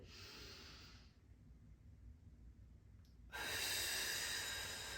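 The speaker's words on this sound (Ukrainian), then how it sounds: "І вдих. Видих. І ще один." Slow, deep breaths in and out during a seated office exercise. There is a soft, airy inhale, a quiet pause, then a louder, longer rushing exhale, all heard close.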